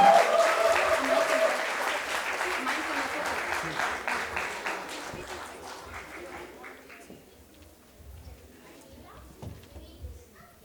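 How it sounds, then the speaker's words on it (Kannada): Audience applause greets a children's Eka Shloka Ramayana troupe coming on stage at a Yugadi festival programme, loud at first and then tapering off over about ten seconds, with children's voices faintly underneath. "ಜೋರಾದ ಚಪ್ಪಾಳೆಯೊಂದಿಗೆ ಏಕಶ್ಲೋಕ ರಾಮಾಯಣ ತಂಡವನ್ನು ವೇದಿಕೆಯ ಮೇಲೆ ಸ್ವಾಗತಿಸೋಣ."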